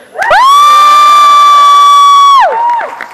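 A convention panel audience at an Inuyasha anime panel roars in one loud sustained cheer. Shrill screams hold steady for about two seconds, then fade into scattered whoops.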